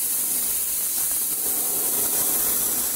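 An airbrush sprays paint in one steady, unbroken hiss of compressed air, a close and even wash of sound held at the same level for a few seconds.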